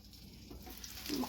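Food cooks under a lid in a pan with a soft, steady sizzle and frying hiss that rises slightly near the end; no one speaks.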